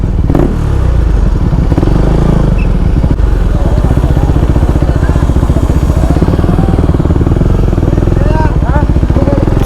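A KTM motorcycle engine runs loud and close throughout, a steady throbbing idle with light clatter, on an Independence Day group rally ride with a riders' club, while voices talk over it.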